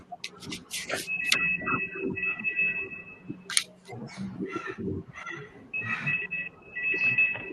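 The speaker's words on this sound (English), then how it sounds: "Someone's phone is ringing." A phone rings during an online virtual conference: steady electronic tones come in two bursts, mixed with chatter and background noise from an open microphone.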